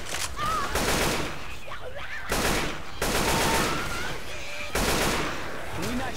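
Bursts of game gunfire in Left 4 Dead 2 arrive as three loud volleys spaced a couple of seconds apart, with dense crackling between them and no clear speech.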